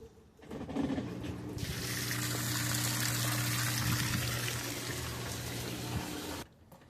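A Maytag Bravos XL washing machine drains its tub: after a short low motor hum starts, a loud, steady rush of water pours out for about five seconds over the pump's drone, then cuts off abruptly.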